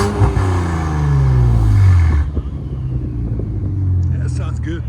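2017 Infiniti Q60 Red Sport with a 3.0-litre twin-turbo V6, catless exhaust and valved system, revs loudly, rising then falling back to a rumbling idle, with voices in the background.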